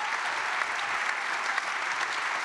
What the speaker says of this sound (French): Je voudrais que vous applaudissiez spécialement les 40 jeunes formidables